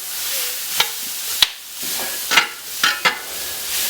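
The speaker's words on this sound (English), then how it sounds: "chopped veggies right into our roux, and we're going to sweat these babies off" Chopped vegetables sweat in a roux for Cajun crawfish étouffée, a soft steady sizzle broken by several sharp scrapes and clicks of a spoon stirring the pot, close and without talk.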